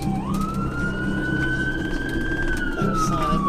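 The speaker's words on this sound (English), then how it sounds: "The crew switch off the sirens." A wailing emergency siren on a rescue vehicle responding to a truck crash in thick fog rises and holds a long steady tone over the rumble of the moving vehicle, fairly close and loud.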